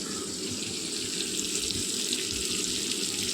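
Water from a rinsed bowl poured into frying ground mustard masala for a potol (pointed gourd) dish: a short, continuous splashing pour with a bright sizzle and gush, close and steady, alone without talk.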